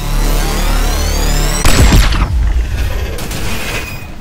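Black hole gun firing and explosion orbs bursting in the video game Crackdown 3: a loud sudden boom with rumbling debris, over a continuous dense game soundscape of whirring mechanisms.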